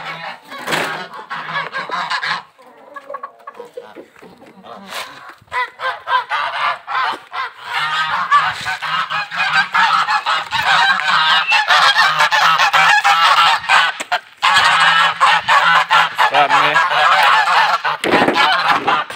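Domestic geese honk loudly and repeatedly near a laying area, with brief quiet gaps before long stretches of overlapping, insistent honks.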